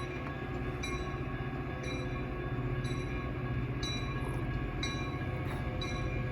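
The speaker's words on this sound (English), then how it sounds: "cheers to the Metro train" A Metro train rumbles steadily past near a train station, with a continuous heavy roar and faint rhythmic clicks of wheels over rail joints, no voices.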